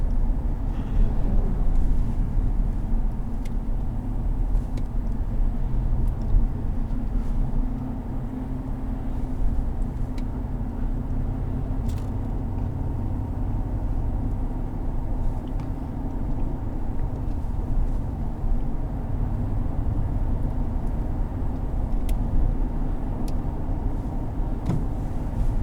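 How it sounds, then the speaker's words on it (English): Inside the cab of a 2020 Ram 1500 Rebel in city traffic, a steady low rumble of engines and road noise hums continuously with faint occasional clicks, loud and unbroken, and nobody speaks. "I can definitely tell the traffic's starting to pick up."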